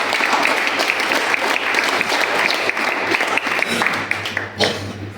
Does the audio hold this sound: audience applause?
yes